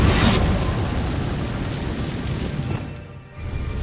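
The Incendio fire spell is cast in Hogwarts Legacy, a loud, roaring burst of flame that fills the space before briefly dropping away near the end.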